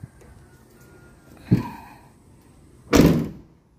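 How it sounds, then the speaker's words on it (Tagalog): Rear door of a 2018 Toyota Granvia van swung shut twice, a lighter thunk followed by a louder, heavier slam, each a single close impact with a short rattle. "bagsak ng pintuan sa likod"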